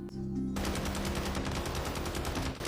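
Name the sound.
gunfire in the video game Warzone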